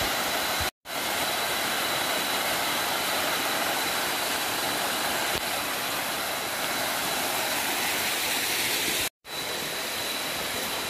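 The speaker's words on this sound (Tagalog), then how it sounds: "Malaking falls pala to." Large waterfall on a Sierra Madre trail in General Tinio, Nueva Ecija, a steady loud broadband roar of falling water filling the whole stretch without pause, close by, with two brief dropouts and no voices.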